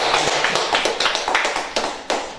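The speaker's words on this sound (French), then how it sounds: "Applaudissements, quoi." A small group clapping loudly and close by, sharp individual claps in a quick uneven patter that goes on throughout the short stretch.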